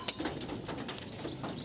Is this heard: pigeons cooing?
yes